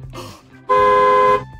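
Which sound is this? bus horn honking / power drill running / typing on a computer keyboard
bus horn honking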